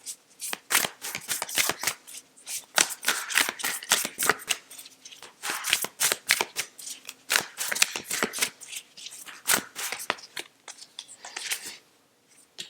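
A deck of Moonchild Tarot cards being shuffled by hand, crisp riffling and slapping strokes repeating in quick irregular bursts, close and clear with no talking.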